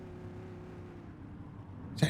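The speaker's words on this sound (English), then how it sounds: "Is that him revving the head out of his engine?" A car engine in the police video game The Precinct drones at a steady low pitch, moderately close, ending with a short sharp knock.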